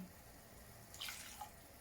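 Water poured into a pan of pancit during cooking, a brief faint splash and trickle rising for about half a second, then a small drip, with no talking.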